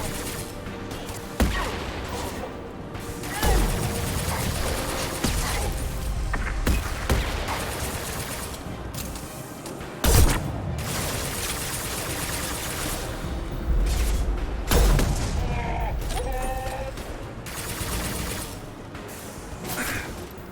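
Sustained gunfire in Mass Effect 2 Legendary Edition, a dense, loud stretch of repeated shots and impacts with sharp bursts and crashes, carrying on steadily throughout with no talk.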